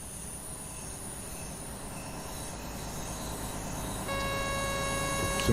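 BR185 electric locomotive running in Train Sim World 2 on the Tharandter Rampe between Dresden and Chemnitz, a steady loud rumble of wheels and motors with faint rail squeal and a rising tone near the end, no talking.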